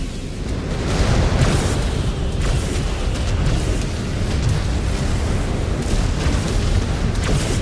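Missile explosions in MechWarrior 5: Clans make a steady, dense roar of booming blasts and rumble, with sharper bursts near one and a half, five and seven seconds.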